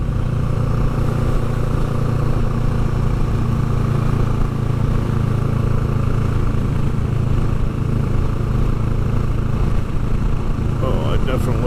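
Motorcycle cruising along historic Route 66 near Tijeras and Sandia Park, New Mexico: a steady, close engine drone with wind rush that holds a constant pace throughout.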